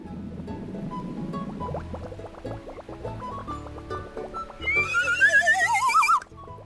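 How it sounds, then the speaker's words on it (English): A slide whistle sound effect in the video game RuneScape 3 gives a wavering, sliding whistle tone near the end, played over soft, plucky game music with short tonal notes. "That was the slide whistle, in case you forgot."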